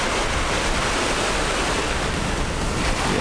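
Ocean surf rolls onto the white-sand Dahican beach in a steady, loud wash of breaking waves, with wind buffeting the microphone throughout and no voices.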